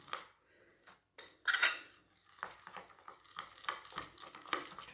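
A spoon clinks and scrapes against a bowl as a batter that is neither thick nor thin is stirred, giving irregular stirring strokes close by with short pauses and no talk.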